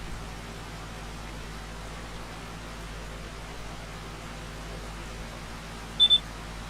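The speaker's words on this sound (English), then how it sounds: "it's beeping at me because I'm low on fuel" Low fuel warning in Farming Simulator 25, two short, quick electronic beeps near the end, faint over a steady low engine hum.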